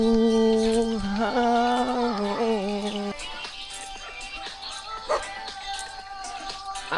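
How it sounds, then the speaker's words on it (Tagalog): A nearby dog barks and whimpers, starting with drawn-out whiny yelps, then short scattered yips over outdoor background noise. "Aso again."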